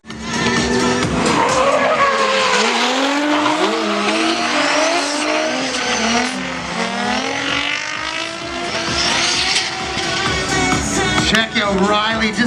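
Tires shriek continuously as a drift car slides sideways through billowing tire smoke at a drift competition, its engine roaring and revving, loud and close, the squeal rising and falling throughout.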